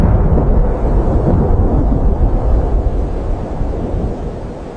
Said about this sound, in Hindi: उस रात आसमान में काले बादल छा गए, तेज आंधी चलने लगी, बिजली चमकने लगी।